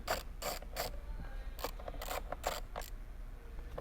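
Ratchet wrench backing out a bolt from the door panel of a 2008 Ferrari 599, a series of quick, sharp clicking bursts in uneven groups, close and fairly quiet, with no talking.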